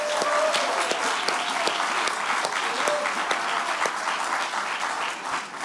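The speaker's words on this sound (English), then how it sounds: "Another round of applause for the choir." A crowd applauds a choir at an outdoor groundbreaking ceremony, with sustained, dense clapping that holds at a steady level throughout and eases slightly near the end.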